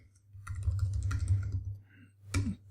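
Keystrokes on a computer keyboard while coding CSS in a WordPress sidebar widget, a short burst of clicks followed by a single louder tap near the end, close and fairly quiet over a low hum.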